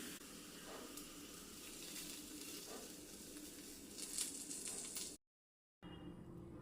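Onion and chilli tempering hisses and sizzles steadily as it is poured into a brinjal curry, a dense continuous frying crackle with a brief louder spike near the end, then a short gap before the sizzle resumes.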